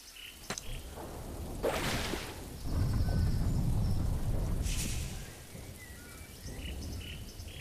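Rain falls in the video game There Is No Game, a soft hiss of steady rainfall that swells and fades, with a few faint ticks and short chirps scattered over it, quiet overall.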